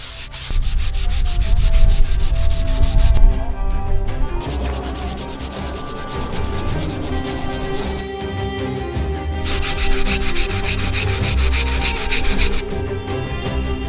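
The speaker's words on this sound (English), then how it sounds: "So I'll continue this process of sanding slow and equal amounts of wood" Wood on a handmade Comanche bow is sanded with long, even back-and-forth strokes, a loud, close, rhythmic rasping that carries on steadily throughout with no talking.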